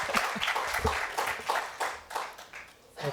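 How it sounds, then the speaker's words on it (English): An audience gives a round of applause after a speaker is welcomed at a session on climate-resilient schools and WASH, the clapping dense and steady throughout with a few louder individual claps standing out. "Big hand of applause."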